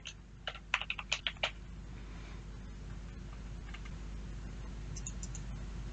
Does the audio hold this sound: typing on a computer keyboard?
yes